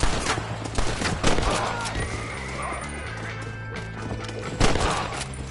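Rapid gunfire volleys mixed with horse whinnies and clip-clopping hooves fill a Red Dead Redemption gameplay scene on PS5, loud and dense throughout with bursts near the start and end.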